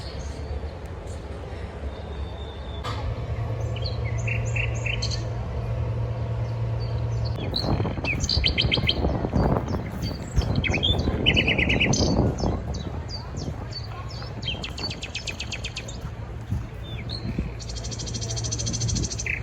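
Continuous recorded birdsong played through speakers at Beylerbeyi Palace, Istanbul, with bright chirps and trills over a steady low hum, sounding slightly artificial and evenly looped, with no talking.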